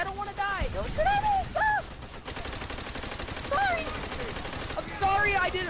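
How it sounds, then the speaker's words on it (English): Rapid gunfire from Call of Duty: World at War multiplayer, bursts of automatic shots rattling under excited shouting voices that rise and fall throughout. "Don't shoot at me like that!"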